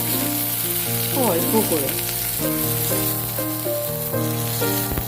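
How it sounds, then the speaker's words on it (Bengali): Eggplant pieces fry in a small amount of oil with a continuous sizzle. Music plays underneath and a voice briefly speaks. "বেগুনগুলো আমি একটু ভেজে নেব"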